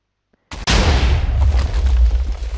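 A TNT minecart cannon detonates in the Minecraft video game: a sharp crack followed by a loud, sustained booming roar of blasts and low rumble.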